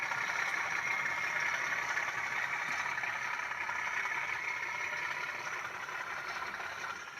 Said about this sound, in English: There you go, thrash. Big tractor thrash.